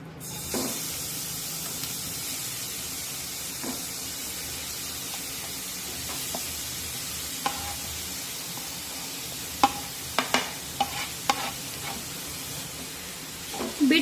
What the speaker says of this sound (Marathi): आता याच तुपामध्ये हे किसून घेतलेलं बीट परतून घेऊया